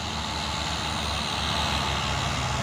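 A smoking Fuso truck labours up the steep Bukit Kodok hill, its engine a loud, close, continuous strained drone with a steady rough pulse throughout the brief moment, no talk.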